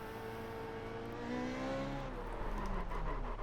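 Formula Renault 3.5 race car engine in the iRacing sim at Indianapolis Motor Speedway, a steady high-pitched whine with shifting harmonic tones that rise and swell slightly louder toward the end, heard alone.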